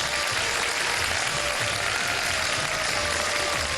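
A studio audience applauds the winner of a television quiz show, a loud, dense and continuous wash of clapping that holds steady throughout with no talking over it.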